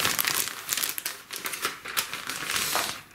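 A plastic bag crinkles and rustles continuously up close, with irregular crackling bursts as it is handled.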